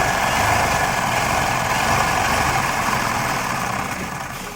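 A treadle-operated pedal sewing machine runs fast, producing a dense, continuous whirring mechanical rumble that holds steady and fades slightly at the end, with no voices.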